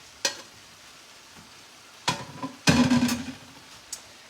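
A spoon scrapes and stirs a cooked Italian sausage mixture in a pan, several sharp clatters followed by a longer burst of scraping and sizzle, close and alone with no voices.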